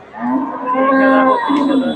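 A Friesian cow moos once in a long, loud, drawn-out call at a busy cattle market, close by and standing alone above faint background murmur.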